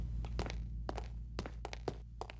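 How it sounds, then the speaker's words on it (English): Footsteps from the No One Lives Forever video game: a series of repeated soft thunking steps at an uneven walking rhythm, moderately close, over a steady low hum. "I'm hearing footsteps."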